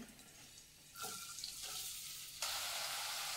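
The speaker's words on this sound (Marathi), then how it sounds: "तर तेल गरम झालेलं आहे। कांदा एकदम बारीक चिरून घेतलेला आहे, एक तो घालून घेणार आहे।" Finely chopped onion drops into hot oil in a wok, and the frying jumps into a loud, steady sizzle that grows stronger and stays continuous for the remaining seconds, close by with no speech.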